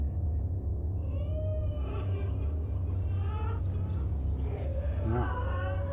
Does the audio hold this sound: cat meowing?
yes